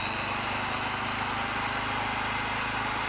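A generator runs steadily with a drill and an electric bike charger drawing power from it, giving a continuous close engine drone with a buzzing hum and no talking.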